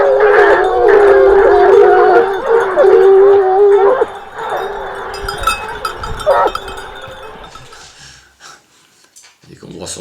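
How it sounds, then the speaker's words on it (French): A pack of hunting hounds comes through the woods, with a loud, dense chorus of baying and howling that dominates the first four seconds, then thins to scattered cries before fading to near quiet. "dans les bois et quand vous entendez arriver la meute"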